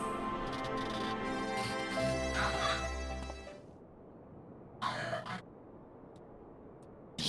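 A character in Final Fantasy XIV lets out a voiced giggle followed by rough, breathy coughs over soft game ambience, and a short burst of sound follows after a quiet stretch.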